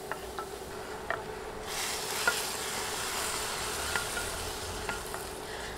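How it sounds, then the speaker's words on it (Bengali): Hot spiced tempering (baghar) hits a pot of thick dal as it cooks, bursting into a broad, steady sizzle about midway that fills the room at moderate volume, with a few soft clinks beforehand. "এখন রান্না হতে থাকা ডালে বাগারটা দিয়ে দিব"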